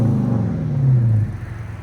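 A 2014 Dodge Charger R/T with a 5.7L HEMI V8 and Magnaflow Magnapack exhaust gives a deep, loud, close rumble with a falling low note as the engine settles, alone with no talk.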